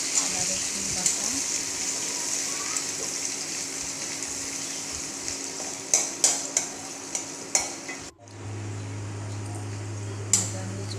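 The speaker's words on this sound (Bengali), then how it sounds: "ভাজা হয়ে চলে এসছে আদা রসুন পেঁয়াজ" Chopped onion with ginger garlic paste frying in oil for a rohu fish curry, a soft steady sizzle with a few sharp stirring knocks near the end, then a brief hum as the background changes.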